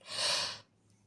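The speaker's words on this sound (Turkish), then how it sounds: "Ay çok esnedim yine bismillah" A single drawn-out breathy yawn, airy and close, lasting about half a second before trailing off into near silence.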